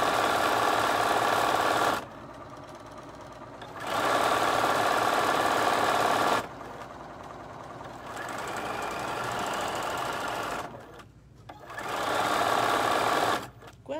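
Bernina sewing machine stitching in quick bursts, loud and close, its fast mechanical whirr starting and stopping several times with short pauses between runs.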